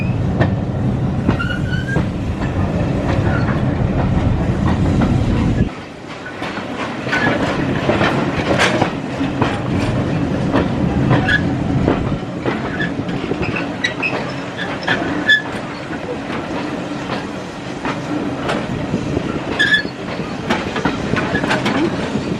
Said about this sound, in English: See that old locomotive on the other track